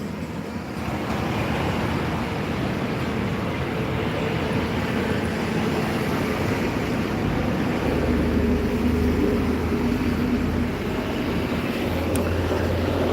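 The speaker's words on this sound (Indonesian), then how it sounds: "Menunggu bus yang datang dari Sumatera atau dari Pulau Jawa dan sekalian truk" Traffic rolls past a bus terminal as buses and trucks go by, a continuous broad roadway rumble with swells from passing heavy vehicles and no talk.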